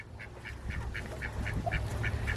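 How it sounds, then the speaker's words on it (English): Ducks on a farm with a chicken and duck feeding setup give a quick, evenly spaced run of quacks, soft and moderately near, over low background noise. "the ducks come over here for a bit"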